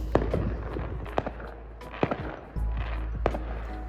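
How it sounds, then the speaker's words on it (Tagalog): Fireworks and firecrackers going off around houses on New Year's Eve in Iceland, with several sharp cracks and bangs scattered over a steady low rumble, some close and loud, others farther off. "marami na agad nagpapaputok sa kanilang mga bahay"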